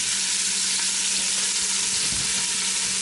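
Pork chops sear in a hot pan, a loud, dense and unbroken sizzle held close throughout, with one faint low thump partway through.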